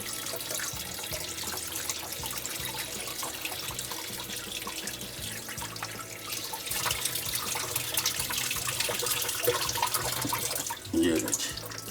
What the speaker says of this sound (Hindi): इसको नलके के नीचे खोल के थोड़ा सा ठंडा कर लें